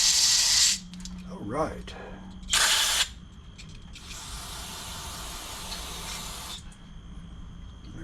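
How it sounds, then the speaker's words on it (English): Bursts of aerosol cleaner hiss loudly into the carburetor of a Honda Harmony HRS216 push mower long stored unused, three separate sprays with pauses between, and someone speaking briefly. "Spray it through there. Watch out the side right there, inside the carburetor"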